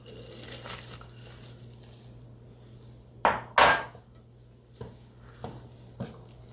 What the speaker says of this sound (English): What I'm doing is just stirring this to incorporate everything well